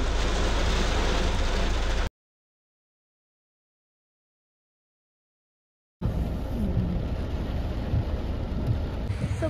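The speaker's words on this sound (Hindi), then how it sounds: "बारिश काफ़ी ज़्यादा हो रही है गाइस।" Dense, steady heavy rain hisses loudly near a helipad terminal in Katra, broken by a stretch of total silence midway, then the downpour resumes with some rumbling and wind buffeting.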